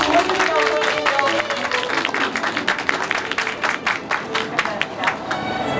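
An audience at a snowfall-preparedness drill on the Nonsan national highway welcomes an introduced guest with steady, fairly loud applause, dense clapping that fades and swells with a few sharper claps near the end and murmuring voices mixed in.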